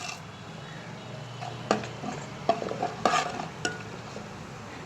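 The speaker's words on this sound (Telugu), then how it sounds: "ఎల్లిపాయలు వేగినాయంటే తాలింపులు వేసుకున్నాం." Spoon scrapes and stirs a pan where tempering spices fry with onions in oil for a potato fry, giving a handful of sharp clanks and scrapes over a low, steady sizzle.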